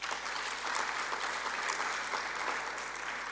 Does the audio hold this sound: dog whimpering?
no